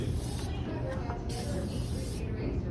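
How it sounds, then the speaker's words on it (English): A spray bottle hisses chemical cleaner onto an escalator in several short bursts, close by, over a constant low mechanical hum. "We're going to go ahead and spray."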